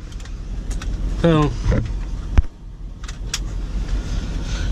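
A 1974 Ford F600 custom cab grain truck idles close by, its engine giving a steady low rumble under brief speech, cab creaks and a sharp clunk partway through.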